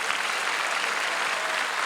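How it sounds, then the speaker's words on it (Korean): A large crowd at a church prayer rally for peace and reunification at Yongsan's War Memorial applauds steadily, a thick, continuous wash of clapping filling the hall from start to finish. "먼저 하나님과 우리 주 예수 그리스도에게 감사의 박수를 보냅시다"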